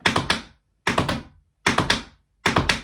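Four separate bursts of quick, crisp tap dance steps on a hard floor, each a short cluster of two or three sharp clicks from forward tap, heel and backward tap, evenly spaced with silence between.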